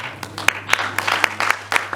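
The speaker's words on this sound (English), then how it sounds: "Let's welcome a round of applause." An audience at an open forum event in Ghana gives a short burst of applause, loose scattered claps landing irregularly over a low steady hum.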